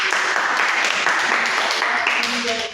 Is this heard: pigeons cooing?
no